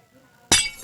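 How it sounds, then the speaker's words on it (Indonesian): A block breaks in a video game with a single sharp, bright glass-shattering crash that hits abruptly near the end and rings out briefly in the quiet. "Karena kalau kalian hancurkan, tuh bunyinya seperti kaca kan?"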